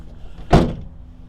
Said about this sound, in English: So I'm going to pull that one section up.